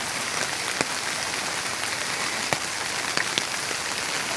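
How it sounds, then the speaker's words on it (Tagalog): Heavy rain falls on garden plants, a dense, loud, even hiss with occasional sharper drips and splats, no voices. "Kanina pa yung ulan na yan, guys."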